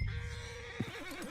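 A big Shire horse whinnies in Red Dead Redemption 2, one short wavering neigh with a rising and falling pitch, fairly close and alone.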